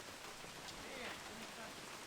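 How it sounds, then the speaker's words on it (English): Rain falls steadily outside onto a new driveway, a faint, even hiss of drops with soft patter and no talk. "Get out of the rain now."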